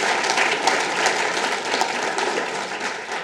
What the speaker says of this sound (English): Always good to get the applause up front.